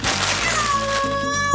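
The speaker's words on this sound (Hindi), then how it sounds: "बिल्ली।" A cat lets out a single drawn-out, rising-then-falling meow, loud and close, over a bed of droning background music.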